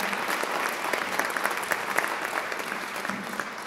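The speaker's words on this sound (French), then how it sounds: "Et je voudrais qu'on les applaudisse" Audience applause at a ceremony for students, heard as steady, dense clapping that carries on evenly throughout at a moderate level, with no speech over it.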